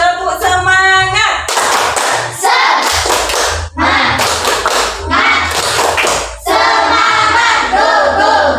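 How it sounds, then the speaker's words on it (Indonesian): A primary school class claps together in quick rhythmic bursts, separated by short pauses, loud and close, with some shouting mixed in. "Tepuk semangat dulu."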